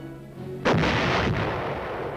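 A U.S. Army artillery gun fires once with a loud, sudden boom, followed by a long rolling echo and a fainter second report about half a second later.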